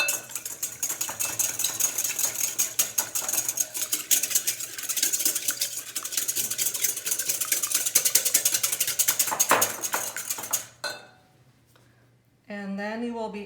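Cake batter with salt and vanilla extract mixed by an electric mixer, a loud continuous whirring and rattling run for about ten seconds before it stops, followed by someone talking.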